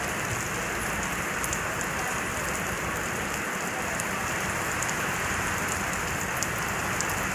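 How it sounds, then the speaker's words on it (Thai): Steady rain pours down near the foot of a bridge on the Bang Bua Thong side, a dense, even hiss of drops hitting surfaces that continues without a break. "นี้คือฝนตกครับ บริเวณเชิงสะพานพระนั่ง9ฝั่งบางบัวทอง"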